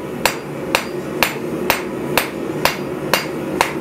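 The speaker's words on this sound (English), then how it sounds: "I'm now gonna come in here with a cross peen and see what we can do with this." A cross peen hammer strikes hot metal in a blacksmith forging shop, eight sharp, evenly spaced ringing blows about half a second apart, close and loud.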